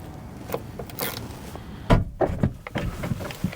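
Doors being shut on a high-mileage Mercedes W209 CLK diesel with a loose window regulator grommet and nut, a series of close thuds and rattly knocks, the heaviest near the middle, with no talk.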